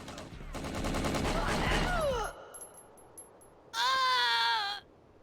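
A rapid burst of enemy gunfire from the video game Winback: Covert Operations rattles for about two seconds alongside synthetic tones, followed by a quieter gap and then a loud, wavering electronic whine.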